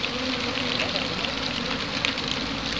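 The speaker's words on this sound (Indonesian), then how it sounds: "Aduh, kacau ini hujannya. Makin deras kawan-kawan." Heavy rain pours down outdoors during a bee colony relocation, making a dense, constant hiss that fills the whole stretch. A voice talks over it.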